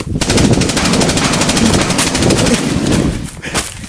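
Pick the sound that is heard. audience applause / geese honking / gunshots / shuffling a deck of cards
gunshots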